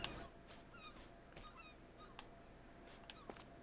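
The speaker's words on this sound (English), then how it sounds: "I hear a lot of gulls." Gulls calling in Stranded Deep, a few faint scattered cries and squawks spaced irregularly over a quiet, hissy island ambience.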